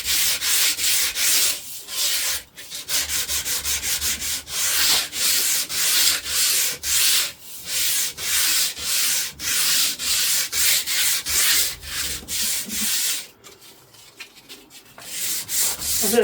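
A hardwood bow rubbed by hand with 100-grit sandpaper, without a sanding block, in long steady back-and-forth strokes, loud and close, with brief pauses between passes and no talk.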